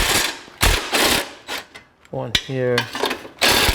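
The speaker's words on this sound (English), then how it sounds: "There's 3 screws here. Take these 3 out first." Short mechanical ratcheting and clicking from a tool working screws loose on the exhaust midpipe of a 2015 Subaru Forester, heard in brief bursts between a man's close-up talk.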